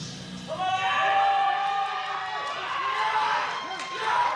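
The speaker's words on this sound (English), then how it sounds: "Japanese team going crazy in the crowd" A crowd at a strength competition cheers, with the Japanese team whooping and shouting. The loud, sustained roar swells and persists while a commentator talks over it.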